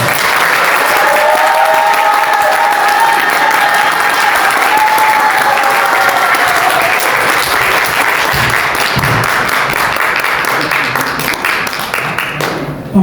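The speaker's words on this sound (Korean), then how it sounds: "여러분 뜨거운 박수로 환영해 주십시오" Loud sustained audience applause welcoming a minister to a special lecture at a Changwon forum, a dense continuous wash of many hands with brief vocal tones early on, tapering slightly near the end.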